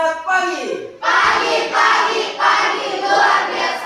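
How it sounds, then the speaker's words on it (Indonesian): A class of students breaks into applause, a close, dense clapping that rises and falls in a few waves after a short burst of voices. "tepuk tangan untuk kalian semua"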